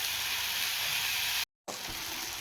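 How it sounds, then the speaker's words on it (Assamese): Onions and tomatoes fry in a pan with a steady, close sizzling hiss that cuts out briefly partway through, then resumes. "এতিয়া বিলাহীখিনি দি ধুনীয়াকৈ বস্তুখিনি ফ্ৰাই কৰিম, একদম গলি যোৱাকৈ।"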